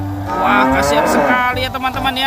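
A toy cow moos loudly in a long, low droning call, with an excited voice speaking over it.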